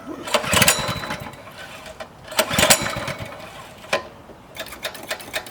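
A mini motorcycle's small engine catches after a pull start: bursts of raspy, sputtering combustion that fire up, die back and sputter again in uneven pulses, fairly close, with a few people talking faintly around it.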